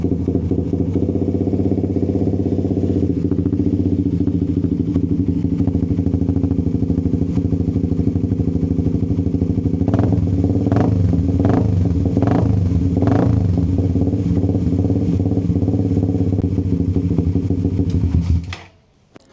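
A Suzuki GSX 150 motorcycle with a Vmax aftermarket exhaust idles with a steady, close, loud rumble, then gives a string of five sharp throttle blips before cutting off abruptly near the end.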